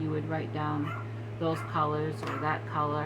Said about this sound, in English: You can hear my Maltese is barking